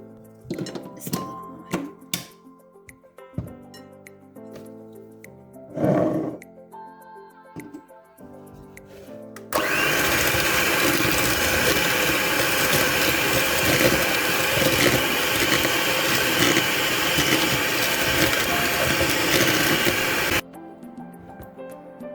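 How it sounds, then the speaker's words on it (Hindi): An electric mixer creams butter and sugar for chocolate cupcakes, a loud steady whir lasting about ten seconds, preceded and followed by clinks and knocks of bowl and utensils. "पहले मैं बटर और चीनी को मिक्स करती हूँ"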